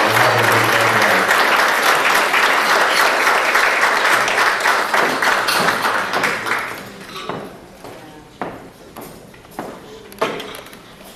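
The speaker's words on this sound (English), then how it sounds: "if you please give him a very big round of applause" An audience applauds an award recipient at a gala. The applause is loud and sustained, then thins after about six seconds into scattered, separate claps.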